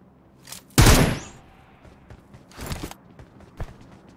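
A loud burst of gunfire in the mobile game BGMI, then a few fainter scattered shots and shuffling sounds, with no talking.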